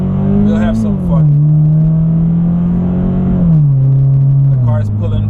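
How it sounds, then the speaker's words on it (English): A Scion FR-S accelerates hard with a loud, close engine note that climbs and drops through gear changes, heard from inside the car over its whole length. "The car is pulling really good. Now I'm not hesitant to hit the gas anymore."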